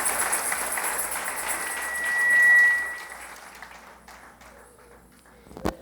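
A church congregation at Iglesia de Dios Nueva Familia applauds in a broad wash of clapping that swells, then gradually thins and fades into near-quiet, ending with a single sharp knock.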